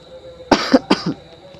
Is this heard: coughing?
yes